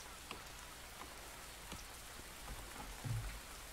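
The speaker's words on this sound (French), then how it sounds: "Il pleut, ils ont de l'eau." Light rain patters steadily in a Farthest Frontier settlement, a faint, even hiss with scattered drops and no voices.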